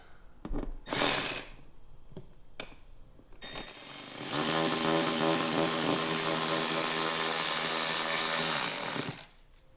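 A power driver with a Torx bit drives a screw into a full-body skid plate on a 2023 Ski-Doo Expedition SE 900 ACE Turbo snowmobile. A few sharp clicks come first, then a steady, close mechanical buzz of about five seconds that stops abruptly.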